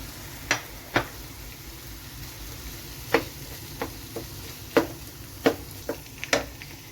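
Mashed boiled potato goes into a sizzling mushroom mixture in a pan, with soft frying underneath and a scattering of sharp spoon clicks and scrapes against the pan as it is stirred.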